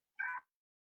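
A domestic cat gives one short, clear meow, close and isolated against silence, lasting under half a second.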